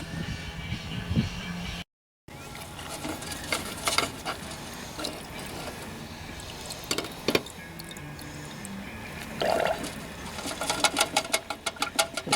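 A Tecumseh lawnmower carburetor, as fitted to Craftsman and Toro mowers, is worked around in a bath of cleaning liquid, giving soft sloshing, gurgling bubbles and small clinks, close up and alone.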